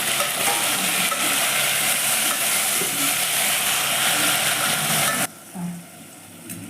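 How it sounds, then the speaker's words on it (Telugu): Tomatoes hit a hot pan and fry, filling the space with a loud, dense sizzle that holds steady for about five seconds before cutting off sharply, leaving quieter bumps and faint background hiss. "ఇప్పుడు మనం టమోటాలు అయితే వేసుకుందాం."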